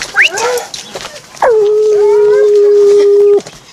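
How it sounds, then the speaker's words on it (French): A Canadian wolf gives one long, loud, steady howl that rises briefly and then holds a level pitch for about two seconds close by, after a short higher yelp and some faint background voices. "Ah, c'est un loup canadien."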